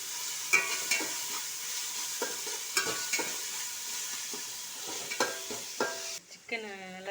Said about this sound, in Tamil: போட்டு நல்லா வதக்கிப்போம்.